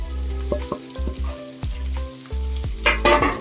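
Green onion, garlic and cabbage sizzle in a hot pan while stir-frying on high flame, a loud crackling hiss broken by clanks and scrapes of stirring in an uneven rhythm.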